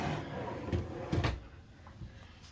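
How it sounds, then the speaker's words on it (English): A soft-close drawer in a 2021 Promaster 2500 campervan slides shut with a couple of muted knocks and a brief cushioned thud, then quiet. "Soft close drawers."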